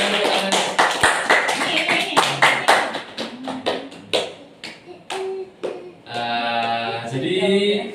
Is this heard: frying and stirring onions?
no